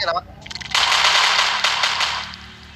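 Rapid automatic gunfire in the Minecraft video game, a loud continuous burst of fast shots close up, preceded by a brief voice.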